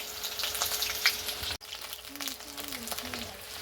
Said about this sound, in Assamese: এয়া পিঁয়াজ বহাই দিলাক